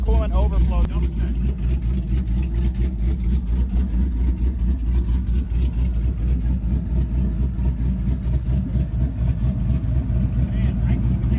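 A 2014 Jeep Grand Cherokee engine idles steadily with a low, continuous rumble throughout, while a person talks over it.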